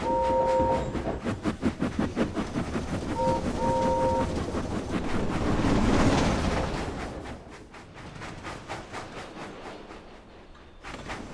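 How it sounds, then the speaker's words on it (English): A cartoon steam tram engine puffing in rapid, regular chuffs, loud and close, with short whistle toots early on before the rhythm slows and fades. "Gordon huffed and puffed impatiently behind him."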